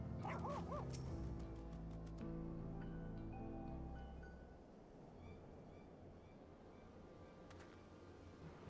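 A large dog mount in the video game Final Fantasy XIV giving a short burst of barks and whimpering yips at the start, fairly close, then fading into a quieter background bed.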